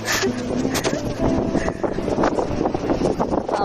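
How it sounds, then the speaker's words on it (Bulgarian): Strong seaside wind in Koper buffets the microphone with loud, gusty roaring bursts that rise and fall unevenly, with faint background sounds mixed in. "Ако знаете колко вятър има тук."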